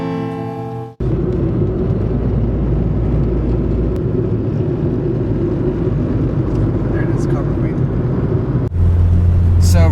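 A car driving toward Douglas near the Mexico–United States border: a loud, steady, close engine and road drone that holds for most of the stretch, with a brief break near the start and another near the end.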